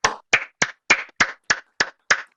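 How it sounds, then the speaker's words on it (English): Eight separate, evenly spaced claps from participants in an online meeting, applauding a talk; each clap is a sharp, close, fairly loud slap, with nothing else heard. "a big clap for the talk"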